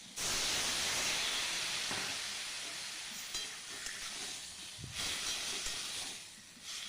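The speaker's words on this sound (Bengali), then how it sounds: "আমি জল দিয়ে দেবো এখন।" Water hits a hot pan of okra tempered with mustard seeds and erupts in a loud, sudden hiss of steam and sizzle that holds strong, then eases slightly while bubbling, with a few stirring knocks near the end.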